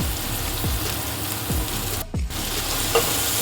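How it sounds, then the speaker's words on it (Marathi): Onion with salt frying in a pan, a steady close sizzle broken by repeated scraping strokes of a spoon stirring, with a brief lull partway through. "कांदा व्यवस्थित परतून घ्यायचा आहे"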